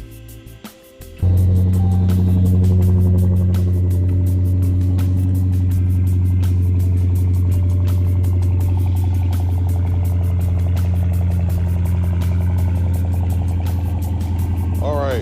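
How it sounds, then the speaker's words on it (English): A car engine cranks and catches after a thermostat and heater hose replacement, then settles into a loud, steady idle close by while a voice speaks briefly. "So now I'm gonna crank it up and let it drink down some"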